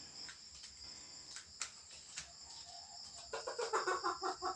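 A gamecock rooster gives soft clucks and short calls, quiet and close, with a rapid burst of clucking toward the end.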